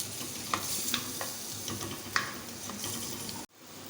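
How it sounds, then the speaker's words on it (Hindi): Chopped onions fry and sizzle in a karahi pan for keema, with a steady hiss broken by scattered sharp pops and stirring scrapes, ending in a sudden drop to quiet. "प्याज को अच्छे से हम फ्राई करेंगे।"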